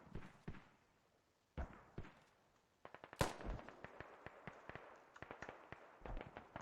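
Sporadic gunshots and bursts of fire from a competitive team shooter match, sharp cracks scattered across the stretch with one louder blast near the middle, over a low background of game ambience and footsteps.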